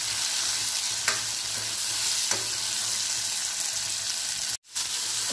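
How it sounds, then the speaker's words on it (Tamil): Garlic and other ingredients sautéing in a pan for a Rameshwaram-style fish curry, a loud continuous frying hiss with a couple of faint stirring taps and one brief dropout. "இது எல்லாத்தையுமே போட்டு நல்லா வதக்கணும்"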